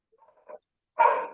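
A dog gives a couple of faint, distant yips followed by one loud, close bark that rings out alone, with no voices present.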